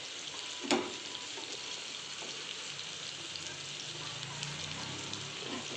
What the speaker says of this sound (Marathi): व्यवस्थित त्याला फ्राय करून घ्यायचं आहे आपल्याला.